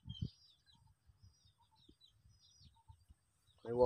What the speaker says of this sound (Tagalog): Water hen mga kagiliw. Natunog dito sa may ano, may palayan mga giliw.